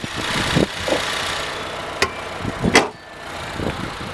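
A 2015+ Subaru WRX engine idles nearby with a budget eBay dual-port blow-off valve fitted, giving a low, steady rumble broken by a few sharp ticks and brief bursts of noise over about four seconds.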